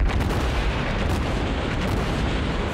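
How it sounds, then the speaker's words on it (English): Battleship main guns unleash a sustained barrage in World of Warships, a dense, loud, continuous rumble of overlapping cannon blasts and booms with no pauses throughout. "Just listen to that barrage."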